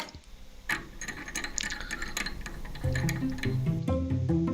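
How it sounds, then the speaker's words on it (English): A pump is screwed onto a vacuum-sealed food container, giving a run of rapid ratcheting clicks and a thin squeak, then a louder, lower grinding turn near the end, close by with no talk. "Next, screw the pump on."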